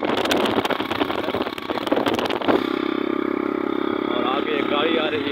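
A motorcycle travels along the Indus Highway with a steady engine drone and road rumble; the tone shifts about halfway through to a smoother, more even hum, with people talking over it.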